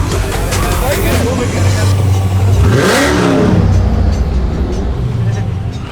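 A Dodge Demon engine revs up close, its pitch climbing and falling once, over a loud roar with people talking nearby.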